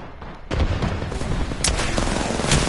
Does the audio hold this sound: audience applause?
no